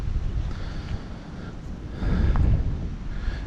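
Wind gusts buffet the microphone outdoors, a low rumbling roar that swells and eases, with a stronger gust midway and no talk.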